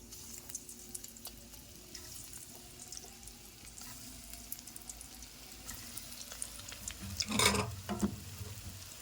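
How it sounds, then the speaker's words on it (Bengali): Egg and gram flour fritters dropped one by one into hot oil, giving a steady low sizzle throughout with a louder bubbling burst near the end, close by and without talk. "এখন একটা একটা করে তেলের মধ্যে আমি ছেড়ে দেব"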